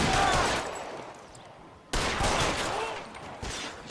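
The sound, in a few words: machine gun fire in the video game L.A. Noire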